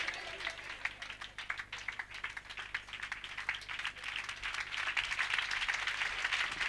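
A church congregation at a revival gathering bursts into rapid, continuous clapping that swells louder over several seconds, with voices acclaiming faintly beneath the applause.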